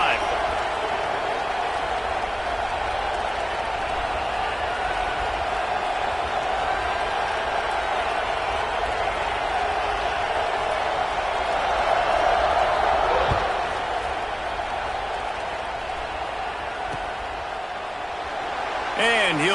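A football stadium crowd roars steadily through a kickoff, a dense, loud wall of cheering that swells briefly in the middle and never drops away.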